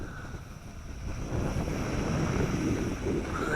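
Wind blows steadily across the microphone outdoors during a toy drone flight, a loud rushing buffet that builds after the first second and stays constant to the end, with no speech.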